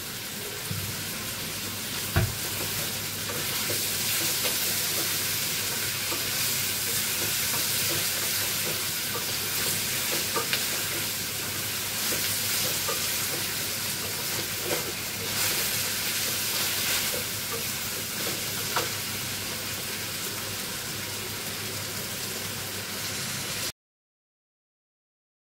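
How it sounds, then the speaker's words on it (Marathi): Spicy masala with a pinch of salt fries in a pan for a leg-piece chicken gravy, a constant close sizzle with soft scraping stirs throughout, no voices, ending abruptly in silence. "थोडंसं मीठ टाकते म्हणजे मसाला लवकर भाजला जाईल"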